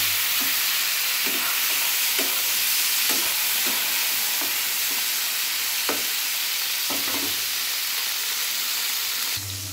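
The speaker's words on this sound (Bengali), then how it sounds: "পটলটা আমি ভেজে নেব।" Pointed gourd (potol) pieces fry in hot oil with a steady, loud sizzle up close, punctuated by regular soft taps from stirring.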